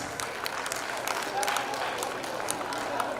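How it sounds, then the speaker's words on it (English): Applause from an audience at an Indian school's annual prize day in Jeddah, a continuous crowd clapping bed honoring a prize winner, with a voice briefly audible over it. "A loud round of applause, audience."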